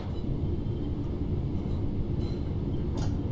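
Class 323 electric multiple unit running in Train Sim World 4 on an early-morning Birmingham Cross City service, a steady, loud low rumble of wheels and motors with no talk over it.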